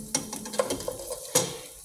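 Meat sizzles steadily in a hot pan while a spoon scrapes and stirs through seasonings, with a few sharp clinks of utensil on metal over the frying hiss.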